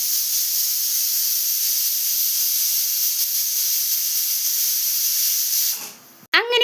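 A pressure cooker holding beef curry lets off a long, loud, steady hiss of escaping steam, which cuts off near the end before a brief shrill whistle.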